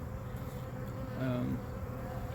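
Honeybees buzz steadily around a queen inside an opened hive during fall colony splitting, a dense close drone with a slightly louder swell midway.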